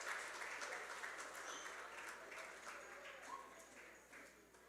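Faint, distant applause from an audience at a STEM camp graduation, a steady patter of clapping that slowly thins out, with a few bird chirps in the background.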